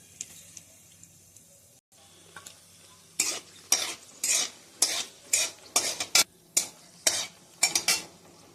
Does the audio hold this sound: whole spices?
yes